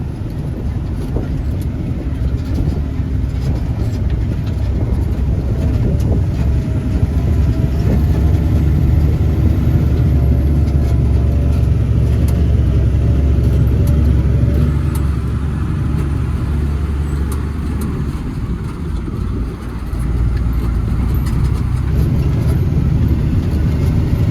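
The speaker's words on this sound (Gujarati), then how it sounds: "હવે અહીંથી મિત્રો ગાડી જળતી જાય." A car rolls down a hill on a narrow one-lane road with passing spots in Gujarat, its engine a steady low drone with road rumble, loud and close throughout.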